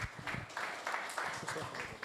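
An audience breaks into applause, a run of fairly sparse, rhythmic claps at moderate volume, quick bursts repeating every fraction of a second.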